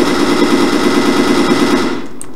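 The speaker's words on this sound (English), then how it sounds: "these gun sound effects are really impressive" Continuous rapid gunfire from the shooter game Fear Online, a loud dense automatic rattle holding steady for about two seconds before cutting off into quieter background.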